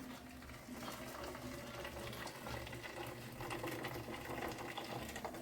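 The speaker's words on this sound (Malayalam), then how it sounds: "ഇതിൻ്റെ ഊറ്റിയിടുന്ന ഒരു പാത്രമാണ് പതുക്കെ ഊറ്റിയിടും" Water from cooked rice drains through a strainer pot in a home kitchen, giving a steady, faint hissing and gurgling pour that continues evenly without talk.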